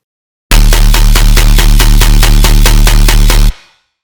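A clean, unprocessed Serum synth bass plays a steady run of evenly spaced notes, loud and close, with a short tail as it stops.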